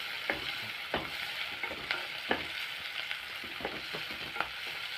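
Onions sautéing in a pan until brown, a soft, low sizzle broken by spaced spatula scrapes and taps every second or so, fairly quiet and close.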